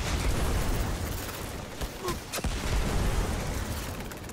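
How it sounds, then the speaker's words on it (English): Rocket explosions in Destiny, fired repeatedly in a firefight against invisible enemies; a dense, rumbling wash of blasts and bursts with a couple of sharper cracks near the middle, loud and continuous throughout. "Just spam rockets"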